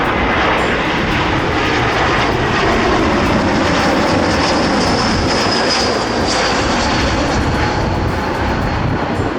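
A Condor Airbus A320 on landing approach to runway 24L in Berlin, around the time of a bird strike on both engines: a loud, continuous jet engine roar that stays close and steady throughout.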